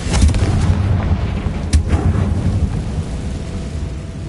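The Confringo fire-blast spell from a Harry Potter video game goes off as a heavy rumbling explosion, with a sharp crack partway through and a dense roar that fades away.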